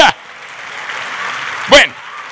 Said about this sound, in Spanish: El aplauso al rey, aleluya.